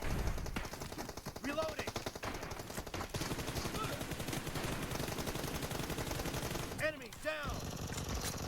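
Rapid automatic gunfire from a mobile shooter game such as PUBG Mobile, sustained bursts filling the whole stretch with a brief gap near the end, loud and close with the player's voice talking underneath.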